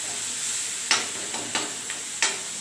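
Food sautéing in a pan, a soft steady sizzle with several faint scraping stirs spaced at irregular intervals, heard alone.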